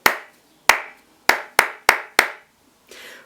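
Six sharp hand claps struck close by in a steady, slightly uneven rhythm, each ringing briefly, followed by a soft brushing rustle at the end.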